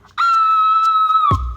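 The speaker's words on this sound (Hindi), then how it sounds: "अब जरा चीखिए" A man lets out a single sustained high-pitched scream on command, loud and close, holding one steady tone for over a second before breaking off with a couple of short breathy bursts.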